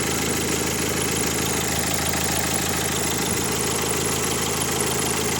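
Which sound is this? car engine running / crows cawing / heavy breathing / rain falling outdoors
car engine running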